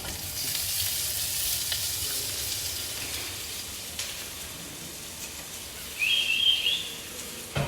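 Black mustard seeds, cumin and green chili with curry leaves sizzling in hot oil in a kadhai, a soft steady hiss with faint crackles and a brief bird chirp behind.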